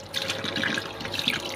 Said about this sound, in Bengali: জল খুলেছে সাপ্লাই, দেখো এই যে কাপড় ধোয়া হচ্ছে।